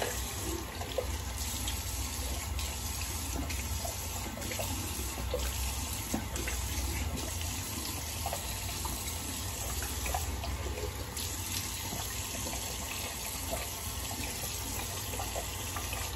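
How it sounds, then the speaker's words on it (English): Cold water runs steadily from a bathroom tap into a sink for rinsing after a shave, a continuous close splashing flow with no talk. "Go ahead and rinse off, get a cold water rinse"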